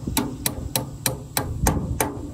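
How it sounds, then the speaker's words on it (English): A small hammer strikes a steel punch seven times in an even rhythm, driving a roll pin out of a Ford 8N tractor's PTO shaft while fitting an overrun clutch. Each blow is a sharp, close metallic tap. "take our little hammer. You don't need a big one. And you gotta take that punch. And you're gonna drive that roll pin"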